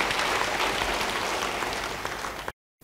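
A church congregation applauds, a steady wash of many hands clapping for a couple of seconds before cutting off abruptly into silence.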